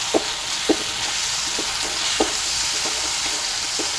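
Chopped tomato purée sizzling and frying in a pan for a paneer masala, with steady hiss and several light stirring scrapes at irregular intervals, close and moderately loud, no voices.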